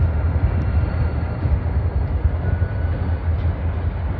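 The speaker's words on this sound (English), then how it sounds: "Here comes that train." A short freight train with three engines and empty cars rumbles past nearby on the Arizona Trail, a loud steady low roar with faint rattling over several seconds and no speech.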